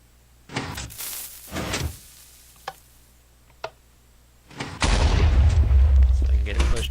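Blocky video-game piston in a wired-up TNT drill contraption firing off with dull thuds and short clacks, several bursts spaced apart, then a louder sustained rumbling crash at the end.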